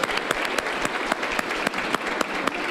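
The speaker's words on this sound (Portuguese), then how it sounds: "Salva de palmas para a Cássia novamente." A small audience at a Brazilian information security podcast recording applauds, a brief burst of close, crisp hand claps with a few sharper individual claps standing out.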